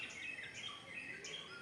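Birds chirping over a water-filled field beside a vegetable garden with coconut trees, several faint, high, repeated calls at a distance, with no voices.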